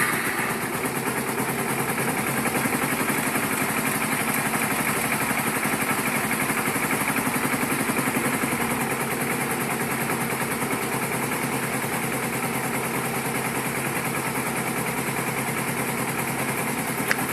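A 2010 Kawasaki Ninja 250 motorcycle engine runs at a steady, even idle close by, a continuous buzzing drone with no voices.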